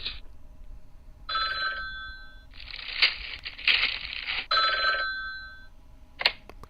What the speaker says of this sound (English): Let's go ahead and give Talking Ben a much-needed phone call.